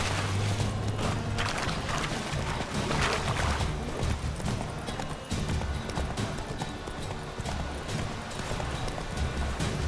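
Roach the horse gallops in The Witcher 3, with rapid, continuous hoofbeats pounding up close for about ten seconds, alongside brief snorting and game ambience.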